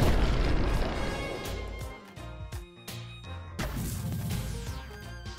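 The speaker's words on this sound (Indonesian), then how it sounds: "Ledakan dahsyat sekali itu." A fire column skill in the Roblox game Blox Fruits goes off as a series of loud booming explosions and crashing bursts, with a dip in the middle before a fresh blast, all close and heavy with no talk.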